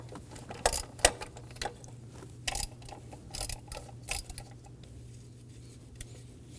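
Ratcheting clicks from a 12mm socket wrench loosening the thermostat housing bolts and nut on a 2016-2020 Kia Sorento 2.4L four-cylinder, coming in short irregular bursts over a steady low engine-bay hum.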